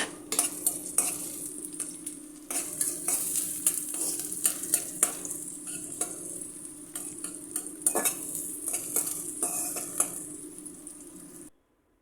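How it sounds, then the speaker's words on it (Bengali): Chopped onions fry in mustard oil with a close, crackling sizzle, while repeated spatula scrapes and clinks against the pan come in irregular bursts until the sound cuts off abruptly at the end. "পেঁয়াজগুলো একটু হালকা সোনালি কালার করে ভেজে নিব"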